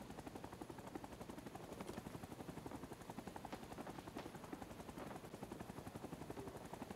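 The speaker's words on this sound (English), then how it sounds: "Oh, we are getting shot at a lot" Video game helicopter in flight with rapid gunfire rattling around it, a constant rotor thrum under repeated bursts of shots, fairly faint and without speech.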